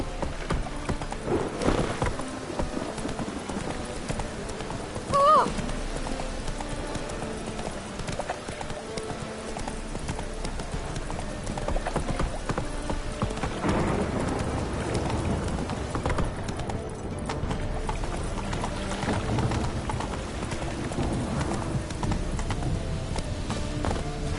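Hooves of Roach, a horse in The Witcher, clip-clop at a steady galloping rhythm for the whole stretch, close and continuous, with a brief whinny partway through.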